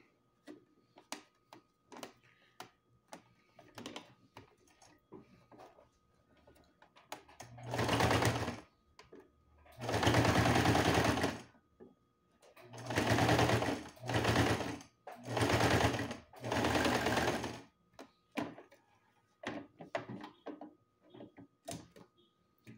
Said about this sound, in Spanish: Vean, pues ya lo cosimos, le vamos a quitar el excedente de hilo